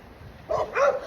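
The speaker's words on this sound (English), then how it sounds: "Hear them dogs?" Two quick barks come from dogs in a neighbor's pool enclosure. They sound at moderate distance over faint outdoor background, with no talk.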